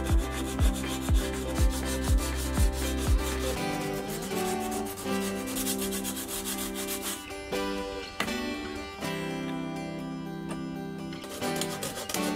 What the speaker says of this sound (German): Ich werde an manchen Stellen noch abschleifen, wo noch irgendwas raussteht, damit wir eine glatte Oberfläche kriegen.